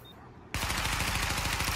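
Rapid automatic gunfire in The Division weapon test, bursting in abruptly after a quiet moment and continuing as a steady, loud rattle of shots at targets.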